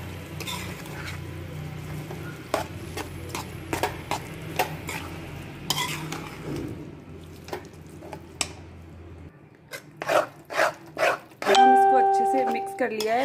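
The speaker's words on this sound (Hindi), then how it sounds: "तो अब हम इसमें मैश किए हुए बैंगन ऐड करेंगे। और इन सबको मसाले में अच्छे से मिक्स कर लें।" Spoon stirring mashed eggplant into frying masala in a pan for baingan bharta, with a low sizzle under repeated scraping and clacking strokes, louder clattering toward the end.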